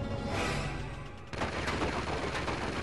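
Dense rapid gunfire in Uncharted 2: Among Thieves, a steady loud stream of overlapping shots with a sharper burst partway through, no talking.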